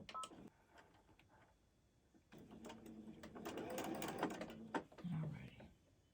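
A sewing machine quilts cotton T-shirt blocks, its faint rapid whirring and clicking coming in short runs, with quiet talk at a low level.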